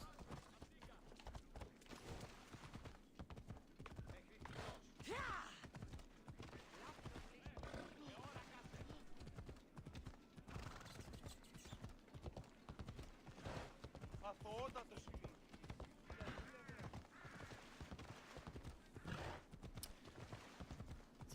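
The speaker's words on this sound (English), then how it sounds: "So now we can call our horse." Horse hooves clip-clop at a steady trot and a whinny rises from Phobos, the player's called horse in Assassin's Creed Odyssey, heard alongside talk and other game sounds throughout.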